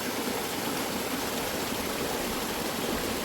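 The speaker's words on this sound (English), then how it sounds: "Do you realize the water is slowing down?" A river in Kenya flowing steadily, a continuous broad rushing wash of water heard close and even throughout, with no talking.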